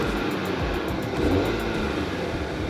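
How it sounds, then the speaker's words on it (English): A 2021 Acura TLX with a 2.0-litre turbocharged K20 engine revving, a steady mid-pitched engine drone that swells slightly and then eases, heard close with no talking. "Let's go and check out and hear that 2-liter engine a little bit."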